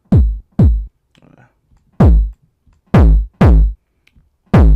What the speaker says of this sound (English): you take a kick drum and you basically distort it until like it's a square wave